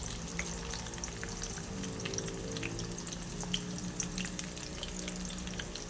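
Thin kalabasa squash chips frying in oil, a continuous fine crackling sizzle with scattered small pops, fairly quiet and steady, no talking.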